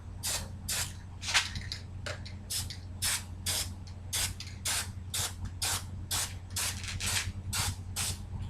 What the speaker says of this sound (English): we're just going to spray a light coat of this grease all the way down the chain